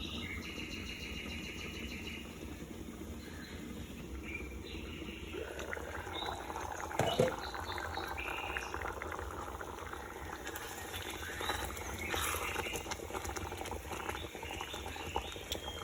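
Potato gravy boils in a pot, a soft continuous bubbling and simmering heard close by, with faint kitchen noises and no talking.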